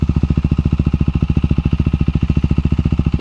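A KTM Duke 390 single-cylinder engine with an aftermarket exhaust and no silencer idles close by, its loud, rapid, evenly spaced pulses forming a steady raw thumping throb.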